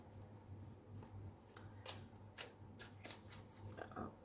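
Tea Leaf Tarot cards slide and snap as they are drawn from the deck, a series of quiet brisk shuffling and flicking sounds close by.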